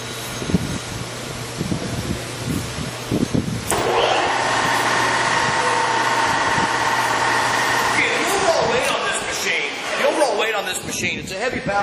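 A Servo 16.5 x 40 inch heavy pattern lathe spins up and runs at 1,250 RPM with a steady loud whirring drone, and someone talks over it.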